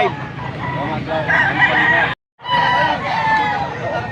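A young stag rooster crows loudly at a poultry market, two long crowing calls broken by a brief silent gap, with crowd babble and market noise underneath.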